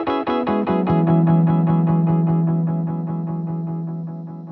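A Hologram Microcosm multi-delay with the activity knob turned fully up turns a guitar note into a dense, rapid cascade of overlapping delay taps, rhythmically pulsing over a sustained low tone and slowly fading.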